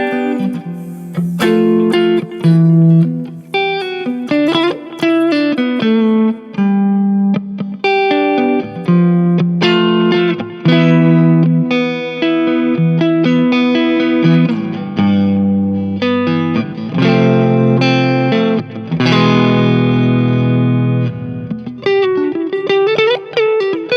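Clean electric guitar with Harley Benton TE 62 pickups playing chords and melodic lines, with a light delay and reverb trailing each note; steady, close, and no voices.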